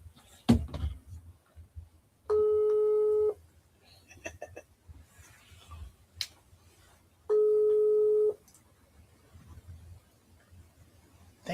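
A phone call that keeps ringing out with no answer, two long steady electronic ringback tones about a second each separated by a pause, with faint background noise and rustling.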